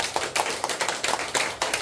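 An audience at a church lecture claps together in a quick, regular rhythm for Mother, the claps sharp and evenly spaced, close and fairly loud with no talking.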